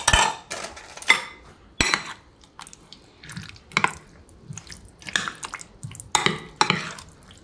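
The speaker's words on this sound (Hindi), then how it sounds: "और अब इसको मैं चम्मच के साथ मिक्स करूँगी।" A spoon stirring flour pakora batter with chopped vegetables in a bowl, giving repeated wet scraping and clinking strokes in short bursts, close and fairly loud, with no talking.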